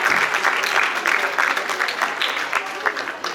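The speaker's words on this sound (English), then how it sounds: "I would like everybody here in the audience to clap for all of us" Dense, steady clapping from a crowd fills the whole stretch, with loud broadband crackle and some voices mixed in.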